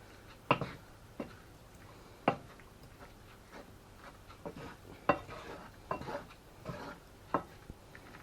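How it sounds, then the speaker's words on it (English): Stirring vegetarian taco pasta with mince in a pan: a utensil scrapes and clinks against the metal at irregular intervals, about ten distinct knocks over a low background, with no voices. "Give it a stir around."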